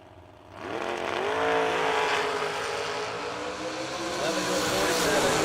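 A dragster launches hard down a drag strip in a Pontiac-versus-dragster matchup, its engine bursting into a loud, sustained high-revving roar after a quieter start and holding steady at close range throughout.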